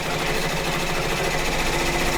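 An embroidery machine running at about 900 stitches per minute sews an outline on a door decoration, giving a loud, fast, steady mechanical rattle that holds unbroken throughout.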